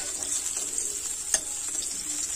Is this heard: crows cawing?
no